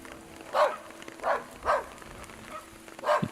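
A St. Bernard that has slipped its leash barks loudly outside a house door on a day of heavy rain, five spaced barks in an uneven rhythm over a steady hiss of rainfall, with no one talking.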